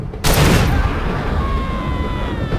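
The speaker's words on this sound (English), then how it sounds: "An interesting way to use fire is to shoot liquid propane tanks." A shot liquid propane tank bursts into a loud explosion in a video game, a sudden broad blast that stays as a sustained roaring fire with a faint tonal whine.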